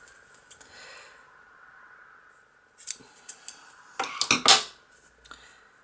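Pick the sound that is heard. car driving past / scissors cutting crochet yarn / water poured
scissors cutting crochet yarn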